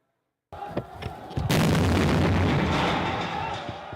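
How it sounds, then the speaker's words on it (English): Artillery bombards residential neighborhoods in Homs: after brief silence a few thuds sound, then a heavy blast breaks into a loud, sustained roaring rumble that fills the rest, with faint voices underneath. "his forces unleashed a ferocious bombardment of residential neighborhoods in Homs"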